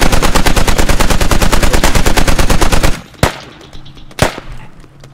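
Heavy machine gun in the video game Squad fires a loud, rapid sustained burst for about three seconds, then two separate single shots ring out more distantly.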